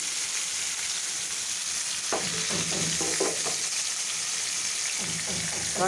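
Spiced meat frying gently over a low flame, a steady soft sizzle running throughout with a burst of scraping stirs in the middle, close by and with no talking.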